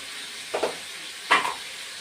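Potato, eggplant and beans sauté in a pan with turmeric, giving a faint steady hiss broken by two short scraping stirs about three-quarters of a second apart.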